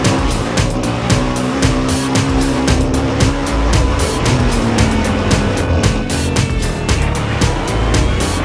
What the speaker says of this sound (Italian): oggi mi trovo qua a fare un po' di cross e allenarmi un po' con le ruote tassellate in quel di Trofarello